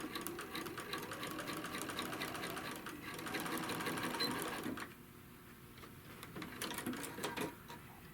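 A sewing machine runs steadily as it stitches across a crochet bag panel, a continuous close whirring that drops off and resumes more quietly in the second half.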